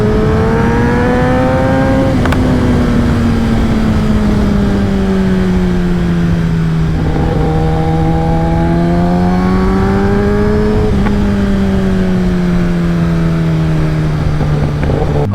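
Kawasaki ZX-10R sport motorcycle engine revving steadily while being ridden, its pitch rising and falling with throttle changes and gear shifts, loud and continuous with no talk.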